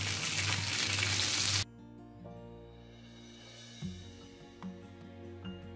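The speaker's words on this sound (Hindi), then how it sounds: "मतलब मीडियम आंच पे इसको कम तेल में फ्राई करना" Chicken shami kababs fry in a little oil over medium heat, with a loud, close sizzle for the first second and a half before it cuts abruptly to a quieter tonal musical passage.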